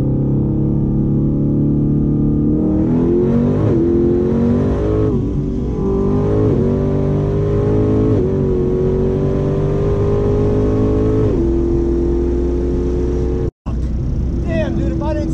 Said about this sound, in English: About to race a silver F-body Camaro with a 10-point roll cage, a turbo 400